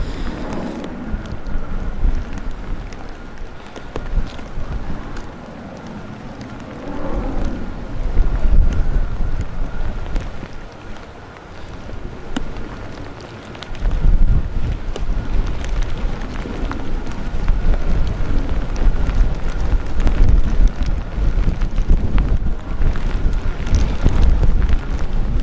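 Wind gusting at Manchester Airport on a wet, windy day, a loud continuous roar and buffeting across the microphone that swells and eases in waves, with faint distant engine rumble beneath.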